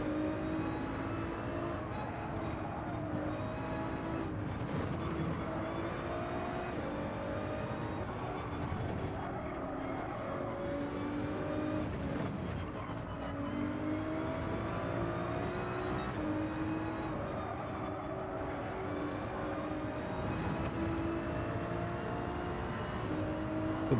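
Race cars roar through a Gran Turismo 7 online daily race, with engines droning and shifting pitch continuously, whining up and down through gears, steady and fairly loud throughout with no voices.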